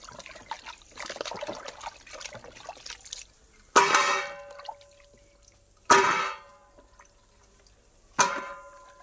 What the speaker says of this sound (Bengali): এই যে আম দিয়ে ভালো করে আমি ধুয়ে নিতেছি